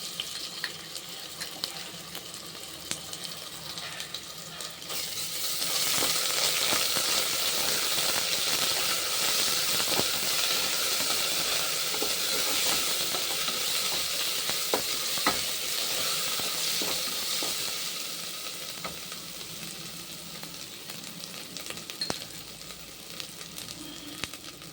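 Ginger paste fries in a pan with a broad, steady sizzle that swells after a few seconds and holds, dotted with occasional scraping clicks of stirring, then eases slightly toward the end.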